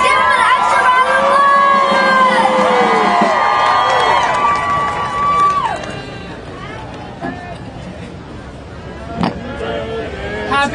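A crowd at an outdoor climate rally in New York cheers and applauds loudly for several seconds, then the noise eases into lower crowd murmur with scattered claps and calls.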